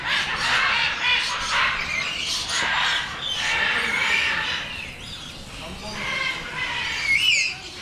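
Birds squawk, squeal and chirp densely throughout at a bird park, with a constant overlapping chorus of shrill calls near and far and a louder squawk near the end.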